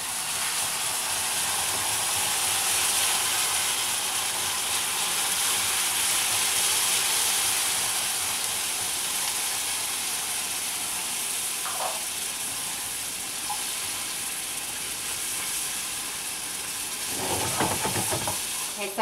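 Heavy cream poured slowly into a hot candy mixture for baked candy apples, with a steady close sizzling hiss throughout as it is stirred and whisked, and brief scraping bursts near the end.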